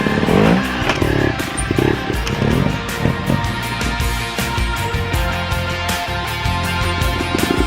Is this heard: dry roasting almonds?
no